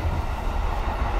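A Chiyoda Line subway train rumbles along the track, a steady close, loud roar from inside the carriage with no talking.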